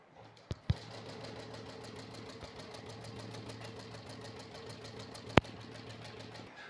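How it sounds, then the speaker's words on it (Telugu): An embroidery machine runs with a fast, even mechanical chatter of needle strokes at moderate volume, with a couple of sharp clicks as it starts and another near the end. "ఇప్పుడు నేను చూడండి స్టార్ట్ చేస్తాను మిషన్."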